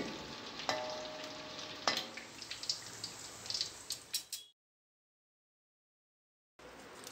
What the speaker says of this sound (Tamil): பூண்டு அதையும் எண்ணெயிலே வறுத்துட்டு சேர்த்துக்கலாம்